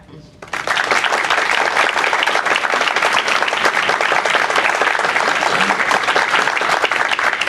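Board meeting audience bursts into loud, dense applause that starts suddenly and stays steady and sustained for around seven seconds.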